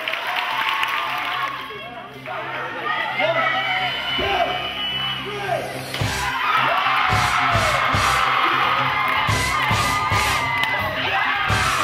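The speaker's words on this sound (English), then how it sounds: "Give yourself a round of applause for that one." Children at a summer camp cheering, shouting and whooping, then breaking into loud applause and clapping that continues to the end, with an adult voice briefly heard beforehand.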